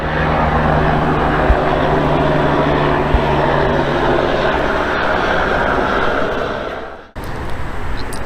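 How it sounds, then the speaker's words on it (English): A loud, steady engine drone with a rotor-like rumble fills the air continuously, cutting out abruptly near the end before resuming. "I hear a helicopter."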